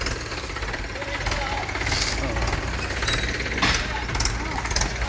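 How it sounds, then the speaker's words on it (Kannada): A Mahindra 545 tractor engine drives through a narrow areca nut plantation, a loud steady diesel knock and chug close by, with someone talking over it. "ಅಡಿಕೆ ತೋಟದಲ್ಲಿ ಚಿಕ್ಕ ಗಾಡಿ ಹೋದಂಗೆ ಹೋಗ್ತಾ ಇದೆ ಫೈವ್ ಫಾರ್ಟಿ ಫೈವ್"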